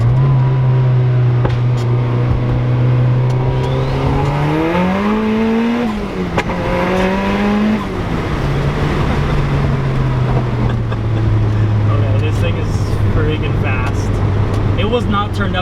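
A turbocharged Mazda Miata engine drones loudly at a steady pitch, then climbs in a surge of second-gear acceleration before dropping and settling back into a low, steady rumble.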